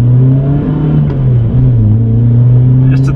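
BMW M3 E30 engine revving loudly and steadily around 4000 rpm during spirited driving, a strong sustained harmonic drone with slight pitch dips, close and continuous with no talk.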